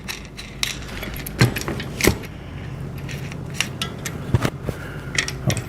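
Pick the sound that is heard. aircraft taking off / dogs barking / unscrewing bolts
unscrewing bolts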